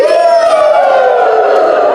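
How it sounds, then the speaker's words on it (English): A crowd of students at an arts camp cheers loudly for a breakdancer, a sustained close roar of shouts and whoops with one voice rising clearly above the rest. "You're going to cheer for him."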